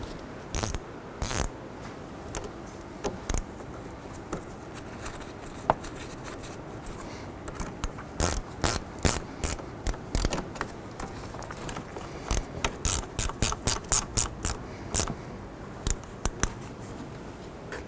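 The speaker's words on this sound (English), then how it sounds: "And using your 10mm, go ahead and tighten up those clamps." A 10mm ratchet tightening the radiator hose clamps on a 2007-11 Honda Civic: bursts of quick, close clicking from the pawl, coming in short runs with pauses between them.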